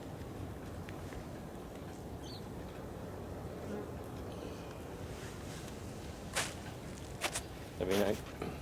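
Honey bees buzzing at a beehive in December, a faint steady hum close by in a quiet outdoor setting, with a few soft knocks and rustles near the end.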